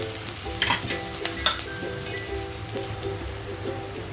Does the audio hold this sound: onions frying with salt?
yes